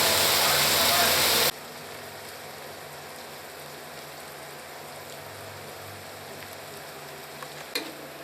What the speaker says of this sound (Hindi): प्याज को अच्छे तरीके से फ्राई करेंगे